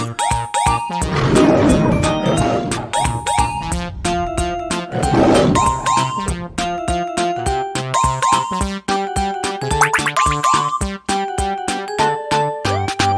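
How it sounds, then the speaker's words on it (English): A lion roars in loud, rough bursts, set against a bright, repetitive musical backing of tonal chimes. "The lion says"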